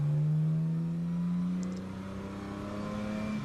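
A recorded car engine revs loud and close, its steady drone dipping at a gear shift and then climbing back to a slightly lower, sustained pitch.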